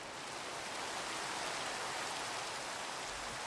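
Steady, dense rain in a Titanic video game hissing evenly on surfaces, a continuous wash of noise with no voices or other clear sounds.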